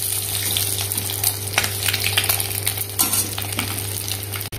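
Steady crackling sizzle of eggs frying in oil, with a low hum beneath and a few scraping clinks of a utensil partway through.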